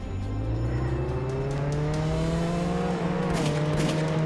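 A car driving in a Roblox transformation racing game, its steady engine drone rising slowly in pitch as it accelerates, loud and continuous with a faint skid near the end.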